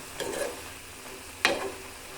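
Kirsali greens cooking in their own released water, with two brief soft scraping stirs against the pan over a faint low simmer, quiet and close.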